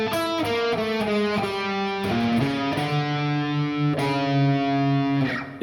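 The second guitar part of a song rings out on a distorted electric guitar, a slow descending run of sustained, gritty notes played solo, loud and close.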